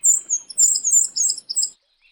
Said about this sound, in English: The birds filled the air with their happy song.